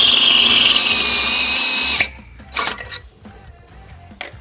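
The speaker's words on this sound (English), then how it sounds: "now we're going to enlarge the rear hole in our canister to 7/16" Power drill whines loudly for two seconds, enlarging a hole in a trailer hitch canister to 7/16 inch on a 2017 Hyundai Elantra GT, then stops, followed by a few clattering handling noises.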